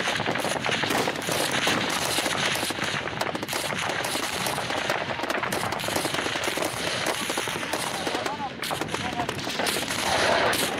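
Heavy automatic gunfire pours onto an armored vehicle in a combat zone with Kurdish fighters, dense overlapping bursts and single shots rattling continuously at close range and high volume, with faint voices beneath.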